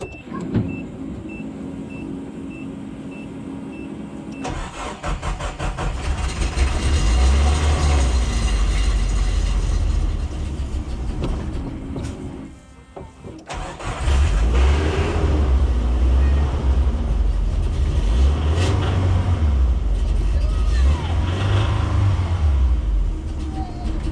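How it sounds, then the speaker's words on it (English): A car with a bad fuel pump starts and idles on a cold winter day, a rough continuous drone with a steady whine and rumbling pulses, close and loud after a brief quieter stretch. "Well, it runs, and that fuel pump sounds terrible, but it runs"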